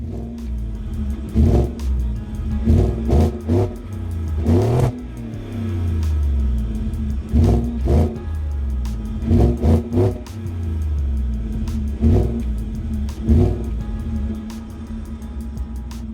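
A 2018 Ford F-150 Lariat pickup engine idles with a low, even hum between repeated sharp revs, the throttle blipped in short bursts roughly every second or two, close and loud with no talking.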